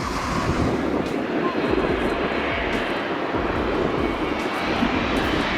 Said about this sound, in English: this A321 roars just feet above the crowd's heads before slamming down onto the runway